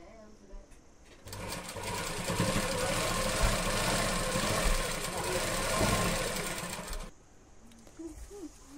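A sewing machine stitches handbag panels together for a homemade bag, whirring loudly and steadily for about six seconds before stopping, with quieter sounds before and after.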